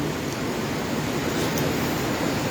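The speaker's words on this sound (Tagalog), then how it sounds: "Hindi siya nag-uulan pero malakas talaga yung agos ng tubig." A strong river current rushes as a steady, dense roar of flowing water, moderately loud and unbroken, with no voices.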